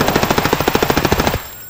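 Rapid automatic gunfire in the video game Escape From Tarkov, a loud, close burst of about twenty evenly spaced shots over a second and a half before cutting off abruptly, with no talking.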